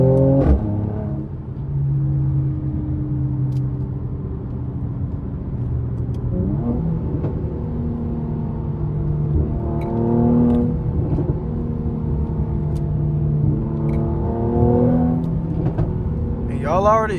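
A Mercedes-AMG C43 cruises at night with a steady low engine drone and tire rumble from inside the cabin, gear changes shifting the pitch, while a voice talks over the drive.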